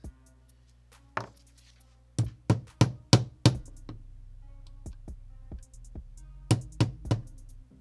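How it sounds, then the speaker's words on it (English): Light metal tapping on an FN 509 Midsize pistol trigger part during a DIY Apex trigger install, about fifteen sharp knocks in irregular clusters with short pauses between them, close and fairly loud. "I guess I gotta tap it a little bit light"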